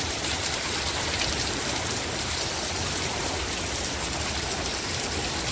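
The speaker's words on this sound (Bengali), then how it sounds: "অনেক বৃষ্টি হচ্ছে দেখছেন।" Heavy rain pours down in Saudi Arabia, a dense, unbroken roar of water hitting surfaces that stays loud and even from start to finish, with no talking.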